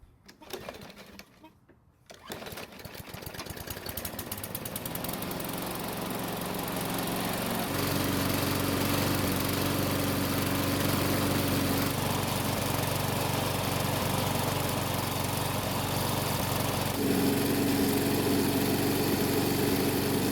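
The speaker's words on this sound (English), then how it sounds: "prime the engine, and then try and start it." A small engine sputters and cranks a few times, then catches and settles into a steady, loud lawn mower drone that revs slightly.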